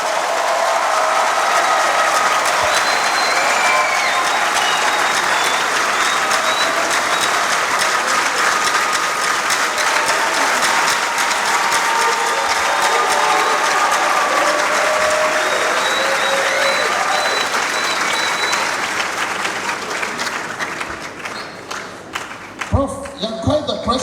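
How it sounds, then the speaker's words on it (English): An audience at a university speaker series applauds loudly and steadily for about twenty seconds as a dense wash of clapping, with faint voices mixed in, before it thins out into a few scattered claps. "Please, a round of applause for Professor Richard Amoah."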